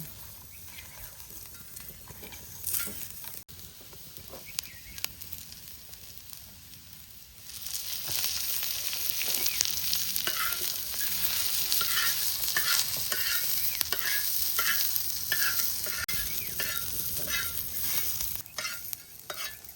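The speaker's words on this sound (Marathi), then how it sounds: "आता थंडा गरम मसाला भुजून घेतो" Whole garam masala is being roasted in a pan, soft stirring rustles at first, then a louder steady sizzle with repeated spoon scrapes and taps through the second half.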